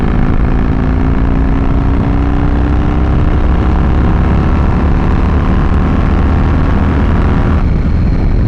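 A Harley CVO motorcycle with a 110ci engine and S&S 551 cams roars loudly and close as it revs and pulls steadily higher in pitch, then drops off sharply near the end, with no talking.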